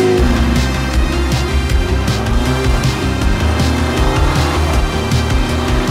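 Kawasaki Z1000 motorcycle engine revving hard and pulling up through the gears, a loud, continuous, close-up roar with a steady low rumble and rising harmonics across the whole stretch.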